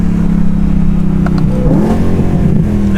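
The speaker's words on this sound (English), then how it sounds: "The downshifts, my gosh, the downshifts are brutal." A BMW M3 engine revs through downshifts, loud and close, with a steady droning tone that dips and rises in a quick blip partway through.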